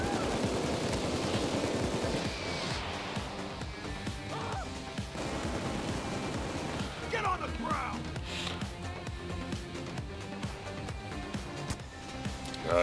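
Dense bursts of gunfire fill a Payday 2 bank heist, rapid shots layered with crashes and game noise at steady high volume throughout, with voices talking over the shooting.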